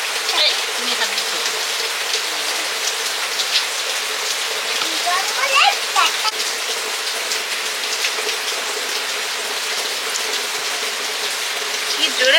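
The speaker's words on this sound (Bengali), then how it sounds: "কি জোরে বৃষ্টিটা হচ্ছে" Heavy monsoon rain pours steadily in a rural setting, a loud dense hiss of drops on surfaces throughout, with faint voices and small clatters beneath.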